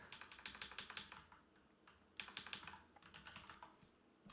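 Rapid typing on a computer keyboard, bursts of close, crisp key clicks with a brief pause midway before the tapping resumes, no voices.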